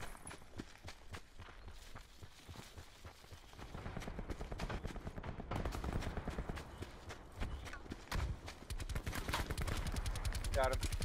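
Bursts of gunfire in the Black Ops 4 Blackout battle-royale game ring out amid running footsteps, with sharp repeated shots in the distance and closer in, under quiet game noise.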